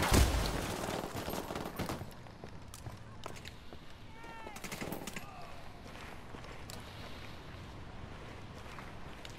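Gunshots and scattered bursts of automatic fire in the open-world tactical shooter Ghost Recon Wildlands, loudest at the start then continuing at moderate level under ambient game sound.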